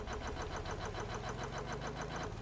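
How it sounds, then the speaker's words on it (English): A 2-71 diesel engine in the Stormworks video game runs after ignition with a fast, even, rhythmic chugging and knocking, steady and faint in level, with no voices. "The engine will start."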